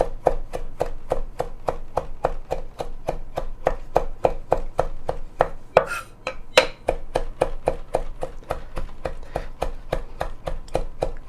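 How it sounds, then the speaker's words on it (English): Knife rapidly chopping fresh thyme on a cutting board, a steady run of about forty sharp, evenly spaced taps close up, with a brief pause and scrape midway. "I'm just going to give this a real rough chop here"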